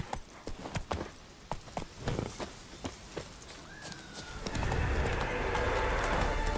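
Hooves of the horse Roach in The Witcher 3 clip-clop in a steady rhythm, then a whinny rises before a louder rush of galloping and wind takes over near the end.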